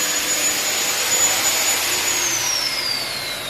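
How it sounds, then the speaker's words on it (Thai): A vacuum cleaner runs off a car-mounted solar battery system, giving a steady, loud whooshing roar with a high whine that drops in pitch near the end, with no talking. "อันนี้เปิดเครื่องดูดฝุ่นไปพร้อมกันเลยนะครับ"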